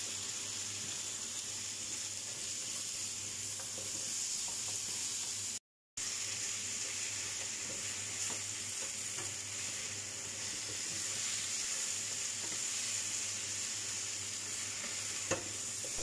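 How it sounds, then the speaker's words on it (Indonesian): Stir-frying chopped pumpkin with tofu in a pan for a Hong Kong-style dish, a continuous steady sizzle with faint scraping stirs, close and even in level, with a brief dropout partway through and no talking. "Setelah dimasukkan tungkuannya dan nanti ditumis-tumis."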